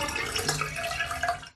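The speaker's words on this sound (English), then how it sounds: "Click on the container to pour water in the tub." In a PBS Kids measuring game, water pours into a tub as a short, continuous splashing gush that fades out quickly at the end.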